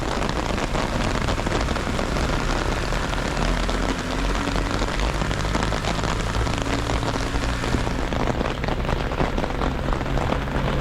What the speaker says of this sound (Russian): Но дождь усилился.